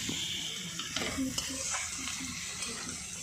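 Shrimp fry in a home kitchen pan with a steady close sizzle, while a utensil stirs and scrapes through them in short irregular strokes.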